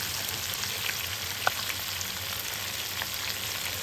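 Fermented jelawat fish bekasam frying in a pan, a steady close sizzle with small pops and an occasional sharper spatter, no talking.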